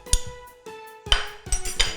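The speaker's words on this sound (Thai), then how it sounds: "ทีนี้ก็โขลกให้ละเอียดค่ะ" Galangal and lemongrass, cut into slices or small pieces, pounded in a mortar for a southern Thai rice-noodle curry: sharp, irregular knocks with clinking overtones, about five blows in two seconds, close and fairly loud, with no talk.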